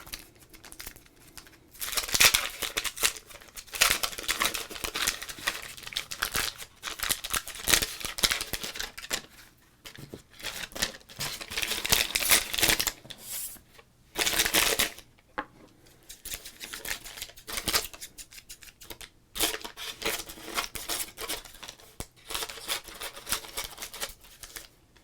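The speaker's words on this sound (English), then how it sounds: "Crinkles and scissors together at last." Scissors snip and baseball card pack wrappers crinkle in a dense, continuous stream of close crackling and sharp cuts, with brief pauses and no talking.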